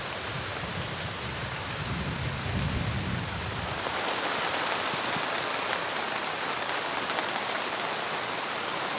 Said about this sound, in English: it is just raining cats and dogs outside